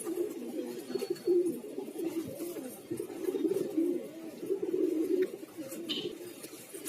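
Several pigeons just let out of their coop coo continuously in soft, overlapping low calls at moderate distance, with no one speaking.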